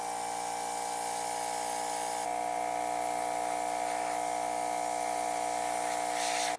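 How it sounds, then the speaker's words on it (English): An airbrush sprays paint onto a fishing lure, giving a steady hiss with a constant mechanical whine from the compressor that holds for several seconds and then cuts off abruptly. "Let's spray this now."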